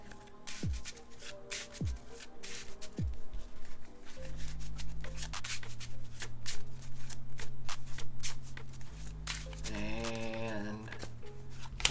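A deck of trading cards is shuffled thoroughly by hand, with several quick riffles and then steady soft shuffling under music with a droning bass.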